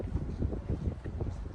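Wind blowing outdoors on a cloudy day at a popular walking spot, a steady low rumble buffeting the microphone for the whole stretch, with no talk.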